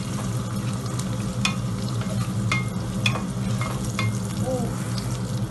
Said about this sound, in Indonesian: Kita tumis sebentar bumbunya.